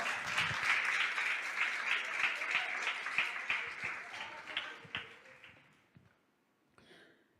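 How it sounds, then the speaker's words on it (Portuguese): A church congregation applauds during a worship service, a fairly loud burst of clapping that gradually thins and fades out, followed by a brief faint patter near the end. "Você pode aplaudir o Senhor?"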